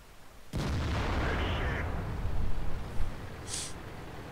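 A tank cannon shot from the FE-183 in a tank game: one sudden loud boom followed by a long rumbling roar that fades slowly, with a faint metallic ping near the end.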